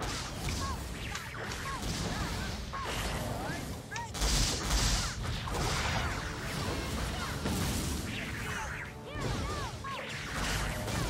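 Dark Cannon skill firing in the video game Grand Chase Classic, a dense barrage of booming blasts, whooshes and crashing hits running continuously and loudly, with a louder burst near the middle, while a voice talks over it.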